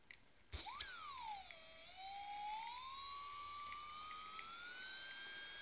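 An RC plane's brushless motor is spun up through the ToolkitRC M7 charger's ESC test, a thin electric whine that starts abruptly, swoops up and dips, then climbs steadily in pitch as the motor speeds up, close and alone.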